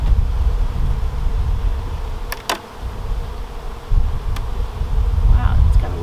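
Honey bees from a recently split hive hum steadily around the opening, a low continuous drone close by, with a few brief sharp ticks or clicks rising over it.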